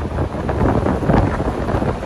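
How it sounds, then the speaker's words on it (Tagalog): Strong wind buffets an outdoor microphone on a road trip from Daang Hari to Naic, Cavite, a steady loud roar with gusts, and no voices. "Lakas ang hangin"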